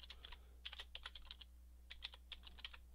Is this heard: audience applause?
no